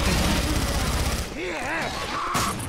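Gunfire in Left 4 Dead 2 rattles loudly as dense rapid bursts filling the first half, then thins out beneath game noise and voices.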